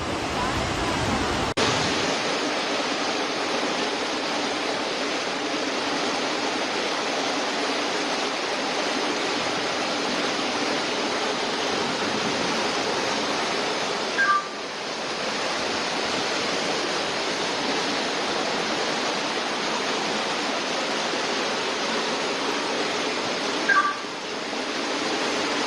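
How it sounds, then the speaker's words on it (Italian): Floodwater rushes through a street outside a house, a loud, steady roar of moving water that carried a car away. It keeps on without a break, with a brief dip partway through. "La macchina della Martina, trasportata via dall'acqua."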